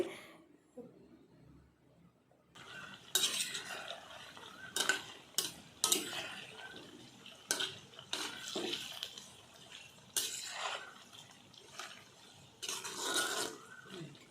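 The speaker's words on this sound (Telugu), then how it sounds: "బాగా ఫ్రై చేసుకోవాలండి ఒక టెన్ టు ఫిఫ్టీన్ మినిట్స్లో అయితే ఫ్రై అయిపోద్ది మధ్య మధ్యలో కలుపుతూ ఉండాలి" Chicken for an Andhra-style pickle frying in a pan and being stirred now and then, giving soft intermittent scraping and rasping bursts at moderate distance after a quiet start, with no voices over it.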